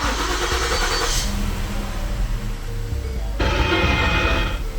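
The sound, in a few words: car engine starting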